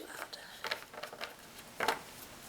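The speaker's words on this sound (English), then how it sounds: "I break it up into 2 parts, and I shuffle each like this." A few quick riffling bursts of a Magic: The Gathering deck being shuffled in two halves, fairly quiet, with a louder flurry near the end.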